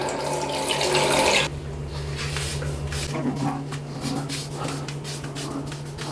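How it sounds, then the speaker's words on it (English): A HeadBlade razor is rinsed under a running tap, a strong rush of water for about a second and a half before it stops, followed by quieter dripping and handling sounds. "Give it a rinse."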